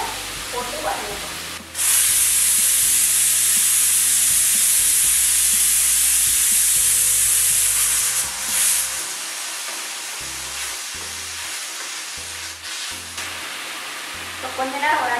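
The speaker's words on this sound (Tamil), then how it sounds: "நம்ம கத்திரிக்காய் முருங்காவை போட்டு வதங்கணும்" Brinjal and drumstick sauté with radish in a hot pan, a loud hissing sizzle that surges when the vegetables go in and continues steadily, with stirring clatter and a faint background hum.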